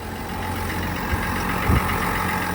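A diesel truck engine, just restarted after gasoline got into its diesel tank, idles steadily with a low, continuous rumble, punctuated by a couple of brief low thumps.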